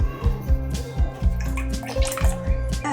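Water pours into tamarind extract steeped for a South Indian rasam, a steady liquid splashing close by with a rhythmic background beat and no talking.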